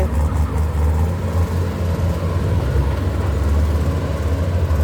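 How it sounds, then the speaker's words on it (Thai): A backhoe works through soft mud with its diesel engine holding a deep, continuous rumble that stays steady and loud throughout. "เฮ้ยรถไถ"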